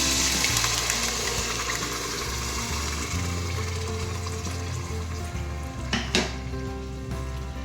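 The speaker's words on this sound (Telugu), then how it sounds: "ఇప్పుడు ఈ మిక్సీ పట్టిన మిశ్రమాన్ని దీంట్లో వేసేస్తున్నాను." Ground paste fries in hot oil with a continuous close sizzle and spatter, with stirring scrapes and a brief clatter near the end.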